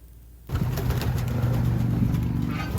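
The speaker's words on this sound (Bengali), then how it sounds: "দেখতেই পাচ্ছেন কবুতরগুলোর ডানা মেলে উড়াউড়ি করছে ঘরের ভিতর" Pigeons inside a farm loft coo steadily in a loud, dense chorus after a quiet opening half-second, with the rustle of wings flapping among them.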